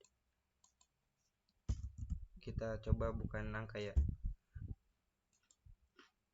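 A few sparse, faint computer keyboard clicks, typing input into a program during a C++ and Python coding demonstration, come before and after a stretch of spoken explanation.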